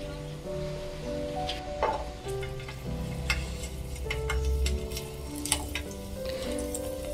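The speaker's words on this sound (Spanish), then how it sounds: "Y doramos los ajos." Garlic frying in a pan for chilaquiles verdes, a steady close sizzle with small pops and crackles and occasional stirring scrapes, heard on its own without voices.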